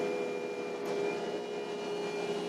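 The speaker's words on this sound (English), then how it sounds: "And I'm going to turn my water blaster on." Water blaster on an Allvac AV7000H hydro excavator running at high idle, a steady sustained hiss with a constant mechanical hum and whine beneath, unchanging throughout and without talk.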